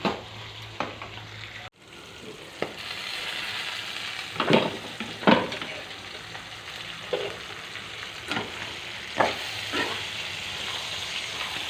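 Onion and bitter gourd pieces frying in oil with a steady sizzle, broken by several sharp scraping stirs from a spatula against the pan.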